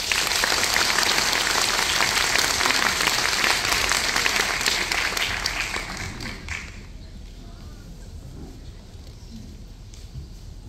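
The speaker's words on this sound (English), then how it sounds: "welcoming them for a rousing round of applause" A school audience claps loudly and steadily for a young guzheng ensemble, dense applause that fades after about six seconds into a quieter room with scattered claps.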